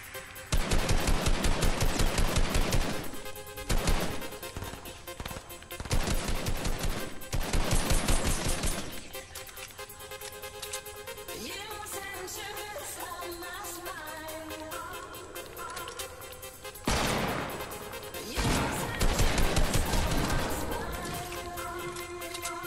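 Rapid bursts of automatic gunfire in a shooter video game, loud repeated volleys in several clusters separated by quieter stretches of ambient game sound, with brief voice chatter in places.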